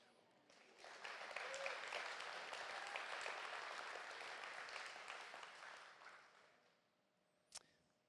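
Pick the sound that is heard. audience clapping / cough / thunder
audience clapping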